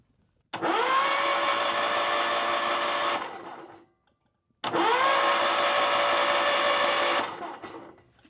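Case trencher engine cranking over on the starter without firing: two separate long, steady whirring cranks of about three seconds each, close and loud, with a short pause between.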